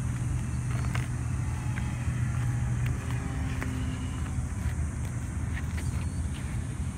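A Dynam Spitfire RC warbird model takes off from the ground with a steady motor drone under continuous wind and outdoor noise, holding fairly constant at a moderate distance.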